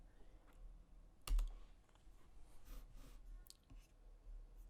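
Quiet computer keyboard typing of a git clone command, soft scattered key clicks with one sharper tap, close but low over faint room noise.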